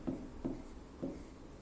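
Pen strokes scratching across paper as an exam answer is written by hand, three short close rubbing bursts with brief pauses between them.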